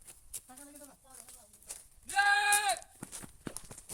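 A cow on a farm with a papaya orchard lets out one loud, drawn-out, high-pitched call. Brief voices and soft rustling come before it.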